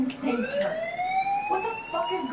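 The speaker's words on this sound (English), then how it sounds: "Do you hear that fire alarm?" A fire alarm rings in the video game Life Is Strange, a steady rising electronic tone with bright harmonics sounding throughout, with voices talking over it.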